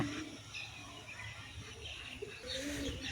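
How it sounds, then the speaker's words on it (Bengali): Pigeons, including Kaldam birds, coo softly from a small pigeon room on a Chinese duck farm, with low repeated calls over steady background noise. "এই ঘরে হলো আমার কবুতর।"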